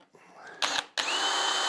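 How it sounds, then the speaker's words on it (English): A power drill pre-drills a screw hole in wood on the support of an antique table, two close bursts of loud whirring, a short one followed by a longer steady run. "pre-drill"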